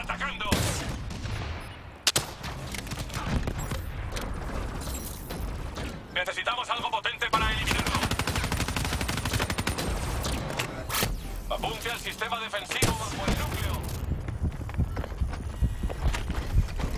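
Gunfire in the Black Ops 3 campaign, with bursts of shots and heavy combat noise running continuously under voiced dialogue and music.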